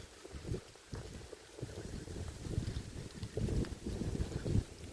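Strong, cold wind blows straight into a sheltered sleeping spot, rumbling and buffeting the microphone in uneven gusts that swell toward the end, with no voices.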